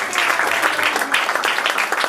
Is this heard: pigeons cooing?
no